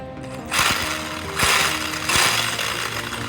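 Faulty RC car driving on only two wheels, a rough buzzing motor whine with noisy bursts that swell and drop roughly every second, heard up close with no talking.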